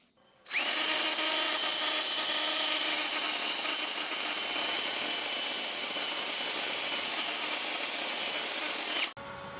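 Power sander spinning against a turned wooden bowl mounted on a lathe, a steady loud whine and rush that starts abruptly, holds evenly for about nine seconds, then cuts off, with no voices.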